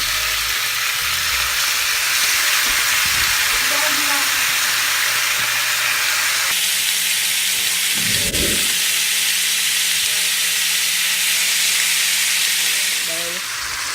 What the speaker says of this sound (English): You hear that sear? That is what you want.